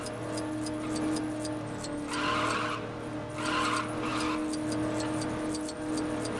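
Cars race in Lego Batman 3, engines droning steadily up close while tires skid and squeal in two louder bursts over the constant motor hum.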